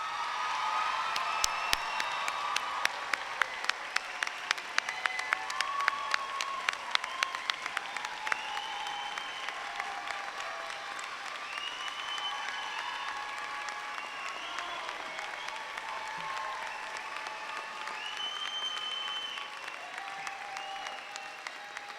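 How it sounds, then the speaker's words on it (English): A large crowd at a university commencement ceremony applauds steadily for over twenty seconds, dense clapping that swells early and holds, with no voices over it. "please join with me as we honor all these graduates with a well-deserved round of applause"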